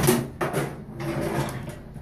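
A drawer of jewelry backstock in a studio cabinet slides open with a short scraping rumble and a soft knock, heard close and alone.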